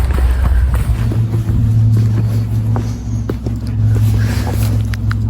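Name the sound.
wind blowing on a waterfall trail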